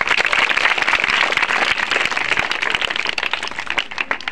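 An audience at a village magic show claps together in a dense burst of applause, loud and close for several seconds before thinning out slightly toward the end.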